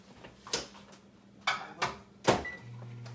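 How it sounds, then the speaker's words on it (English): A few close, soft clunks and clicks, like a microwave door being opened and shut, followed by a low steady hum as the oven starts. "I'm gonna stick it in the microwave."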